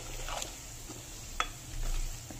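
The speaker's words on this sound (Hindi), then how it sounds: "इसमें डालेंगे अब ये रंग वाली मिर्ची, कश्मीरी रेड चिली पाउडर" Kashmiri red chili powder frying in warm oil for an amla pickle, a soft steady sizzle with light stirring scrapes and a few faint clinks, no talking.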